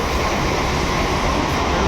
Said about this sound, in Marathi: आपली ट्रेन येते बोरवली स्लो येते